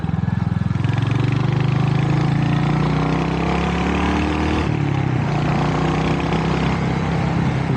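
A Royal Enfield Hunter 350 motorcycle engine runs steadily and loud, close up, a constant throbbing drone that dips briefly partway through, ridden along back roads in the Dandenong Ranges near Melbourne in autumn.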